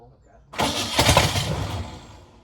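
A 1985 Ford Mustang Foxbody with a 5.0 V8 fires up for the first time in 20 years, starting with a sudden loud roar that settles into a rough, slowly fading idle, heard up close.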